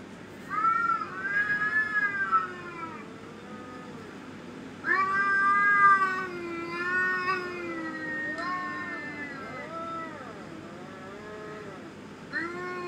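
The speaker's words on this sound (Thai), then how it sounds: "เดี๋ยวเสียงแมวแบบขู่แป๊บนึงนะ" An agitated cat growls and yowls in long, drawn-out, wavering moans that come in several separate bouts at close range, with no talking over them.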